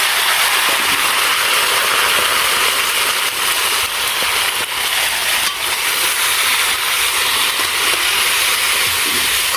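Black gram lentils and vegetables tipped into a cooking pot, a steady loud sizzling hiss with stirring throughout, close up and continuous with no talk.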